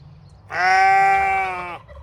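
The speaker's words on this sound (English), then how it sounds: "So these are my sheep." A pet sheep gives a single loud, close bleat lasting just over a second, with faint background noise before and after and no talking.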